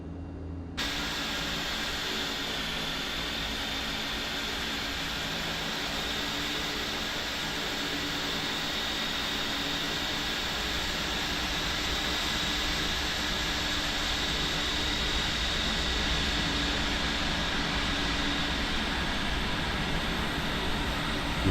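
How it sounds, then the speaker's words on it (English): Engine number 1 of a Mitsubishi MU-2 starting in a flight simulator game: a steady, loud turbine whine and hiss that holds throughout, alone with no talk. "And let's start engine number 1."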